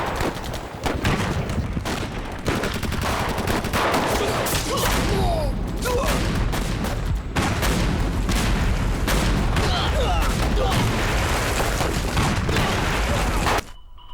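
A dense battle-scene barrage of artillery booms and rattling machine-gun fire keeps up almost without pause, loud and close, with a few brief dips before it cuts off near the end.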